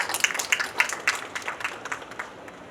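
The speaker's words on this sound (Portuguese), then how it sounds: "Queria que todos recebessem com uma salva de palmas Sua Excelência, deputada Maria do Carmo" An audience at a panel session applauds to welcome a congresswoman, with distinct, fairly sparse claps close to the microphone that rise and fade in an uneven rhythm over a few seconds.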